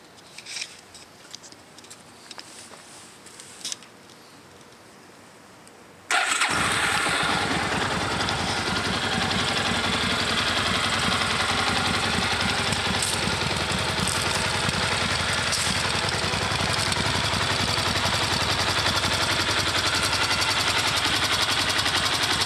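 Vehicle engine running steadily on an autumn drive, a loud continuous drone with rattling texture that starts abruptly after a quieter opening and holds to the end, close by.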